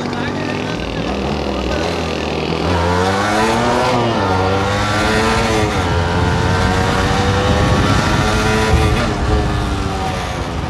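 A Yamaha RX135 motorcycle engine revs loudly and close, its pitch sweeping up and down in repeated throttle blips over a steady idle, with people talking over the engine noise.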